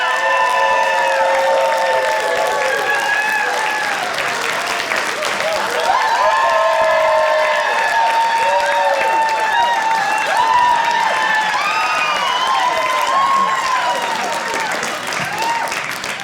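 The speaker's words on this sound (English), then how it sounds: "could we kind of rally and have some round of applause and cheering for awkward silences?" Audience applause and cheering at a stand-up comedy talk, a dense continuous wall of clapping with whoops and shouts throughout, loud and steady from start to finish.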